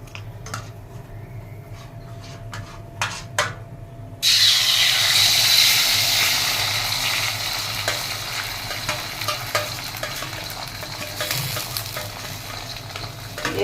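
An egg drops into hot oil in a pan. Soft clicks of handling come first, then a sudden loud sizzle starts and holds steady, easing only slightly over time.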